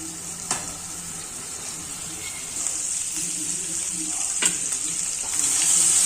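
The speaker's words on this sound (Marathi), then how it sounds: "तेल तापलेलं आहे आपलं, त्याच्यात घालू आता जिरा, फोडणी, कारले भरून जो मसाला उरला होता आपला तो घालूया आता." Cumin and leftover stuffed-bitter-gourd masala hit hot oil for a tempering, giving a steady close sizzle with a few sharp spits and pops that grows slightly louder toward the end; no one speaks.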